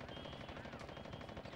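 Rapid, continuous automatic gunfire from a helicopter machine gun rattles in a dense burst in video game combat, fairly faint overall.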